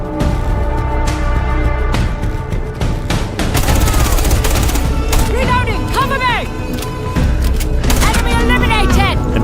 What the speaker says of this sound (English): The sound effects from gunfire to footsteps are crisper